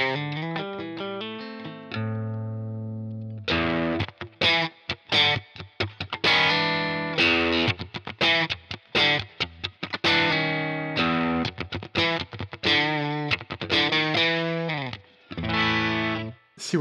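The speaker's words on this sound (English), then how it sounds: "So that's with the gain all the way off, and I am on the bridge pickup of the Telecaster." A Telecaster electric guitar on its bridge pickup plays through an EarthQuaker Plumes overdrive pedal with the gain all the way off, giving clean, bright notes and chords, with a held chord at the start and then quick, choppy picked phrases.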